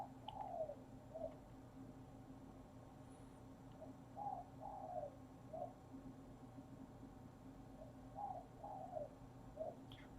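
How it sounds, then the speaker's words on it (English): A bird calls faintly in the distance on an early Bangkok morning, giving short repeated phrases in three loose bursts over a low, steady background hum. "a bird calling. It's a pretty early morning here in Bangkok."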